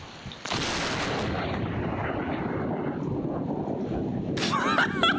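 Lightning strikes a police car, caught on a security camera: a sudden loud crack and boom bursts in, then a long rumbling roar dies away slowly, with a brief voice near the end.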